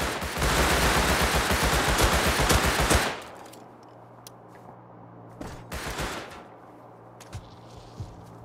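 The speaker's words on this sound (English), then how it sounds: "A lot of shooting over here." Rapid automatic gunfire in Rust Console Edition roars loud and close for about three seconds, then gives way to scattered, fainter distant shots with a few single cracks.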